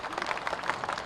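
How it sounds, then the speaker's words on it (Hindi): A crowd at an election rally applauds in a brief, steady wash of dense clapping, fairly distant and even in loudness. "तालियों की गड़गड़ाहट हम बजाएं"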